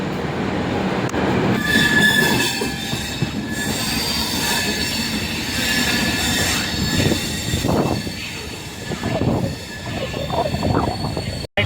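A train departing a station, rumbling and rolling along the rails with high metallic wheel squeals, loud and sustained, the clatter growing uneven toward the end.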